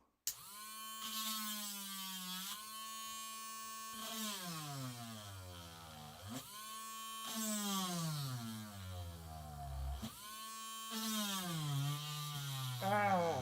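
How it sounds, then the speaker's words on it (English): A power drill bites into a tough, hard material, its motor whining loudly and bogging down in pitch repeatedly as it strains and then spins back up, in several long bursts. "I thought I was going to drill straight through that."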